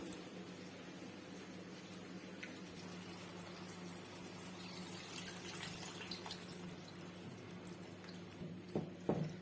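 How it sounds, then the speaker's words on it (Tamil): Steady trickle of tamarind water being poured for a village-style kuzhambu, a low continuous splashing that swells slightly near the end, with a few brief clinks. "இப்போ ஊற வச்சிருக்க அந்த புளியை கரைச்சி ஊற்றிக்கலாம்."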